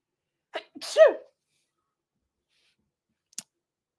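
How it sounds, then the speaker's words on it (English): A single sharp, close sneeze with a short breathy intake before it, then near silence broken by one faint click. "Am I starting to sneeze now?"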